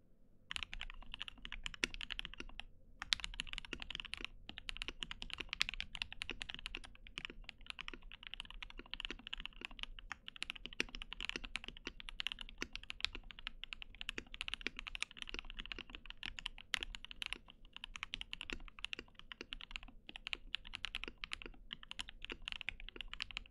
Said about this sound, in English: let's show you what it sounds like with the mic a little bit closer to the keyboard